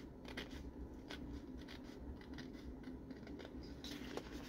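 Scissors snipping around a printed paper greeting card shaped like a wine bottle, quiet repeated cuts in an uneven rhythm over a low background hum, with no voices.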